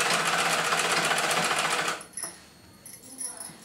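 A sewing machine stitches a petticoat in a fast, close, rhythmic run of needle clatter for about two seconds, then stops, leaving faint handling noises and a few quiet clicks.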